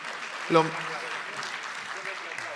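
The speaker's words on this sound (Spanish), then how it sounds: "Un aplauso para él." Audience applause at a congress in a hall, a soft, steady patter of clapping under a brief voice near the start, fairly distant and low in level.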